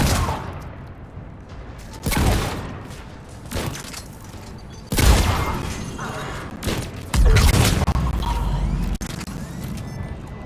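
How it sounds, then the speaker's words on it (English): Heavy cannons fire in the video game Mass Effect: loud booming blasts and rattling gunfire bursts arrive in several waves over mechanical clatter, with game voices speaking faintly in between. "Those cannons have to be stopped."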